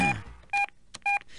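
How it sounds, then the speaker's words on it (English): Telephone dialing tones: a few short dual-tone keypad beeps at a steady pace, clear and close, with faint background noise between them. "I'm dialing up Mr. Kevin Bacon now"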